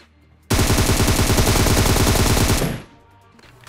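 Sustained, rapid automatic gunfire in the PUBG Mobile video game, loud and close, running about two seconds without pause before cutting off into a quiet game background.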